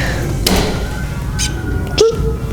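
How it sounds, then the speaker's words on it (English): A SRAM AXS Eagle electronic rear derailleur on a mountain bike takes a sharp knock, giving a couple of distinct thuds and taps with a faint whirr of the motor shifting, close and fairly loud. "when it takes an impact, it shifts up the gear and then drops down into the original gear"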